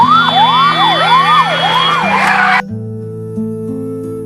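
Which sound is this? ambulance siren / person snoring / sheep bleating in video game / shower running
ambulance siren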